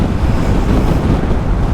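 Steady, heavy wind roar buffeting the microphone of a rider on a KTM Duke 390 motorcycle, loud and unbroken with no speech.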